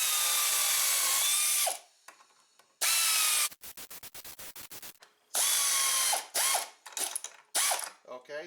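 Power ratchet tightening nylock nuts on the carbide wear bars of an Arctic Cat XF 9000 snowmobile runs in short loud whirring bursts, with a quick series of clicking pulses between them, close and alone.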